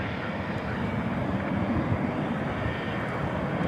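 An airliner on final approach to runway 18 right at Dallas/Fort Worth airport at night, a steady loud engine roar that holds level throughout with no voices.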